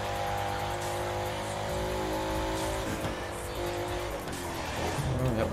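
A car in the racing game The Crew 2 accelerates down a straight, its engine a steady, loud drone that rises in pitch, with a brief squeal of tires near the end.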